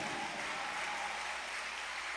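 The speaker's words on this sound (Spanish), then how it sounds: "Puede darle palmas al que vive." A church congregation claps together in a dense, steady wash of applause, fairly faint and continuous, with no talk over it.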